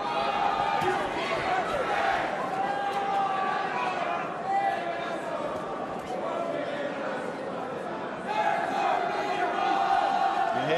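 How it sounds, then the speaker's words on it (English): Cardiff boxing crowd roaring and shouting steadily for their fighter throughout, a dense continuous wall of voices at a live bout. "Bristolian voices in this Cardiff crowd trying to encourage their man."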